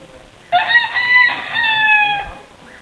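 A single rooster crows nearby in Lucena, Philippines, loud and drawn out, its call rising and then trailing off over a couple of seconds.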